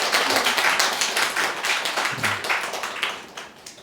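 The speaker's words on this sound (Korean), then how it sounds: "환영의 박수 부탁드립니다" A Sunday worship congregation claps to welcome a new member, with fairly close clapping that is strongest at the start and gradually fades over about four seconds.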